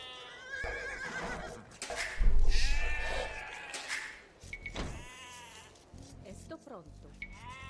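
Sheep bleat repeatedly in the Age of Empires II strategy game, layered with in-game unit voice responses and other game sounds, moderately loud and overlapping.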